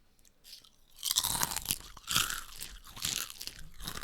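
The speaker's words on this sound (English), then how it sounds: "could your chip eating be any louder?" Loud, close crunching of chips being chewed, a dense run of crisp bites and mastication noises filling several seconds with no talk.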